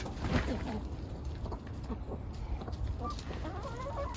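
Hens cluck and murmur in a coop, a steady low chorus of soft calls with occasional louder squawks, moderately close and without talk.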